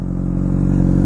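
A Honda CBR600RR sport bike engine heard up close, a loud continuous buzzing drone holding steady over a brief moment with no talking.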